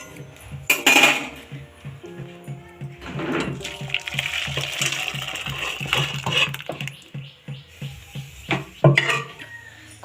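An iron kadai set down on a gas stove, with metallic clanks and knocks of pots and utensils in an irregular series of sharp hits, close and fairly loud.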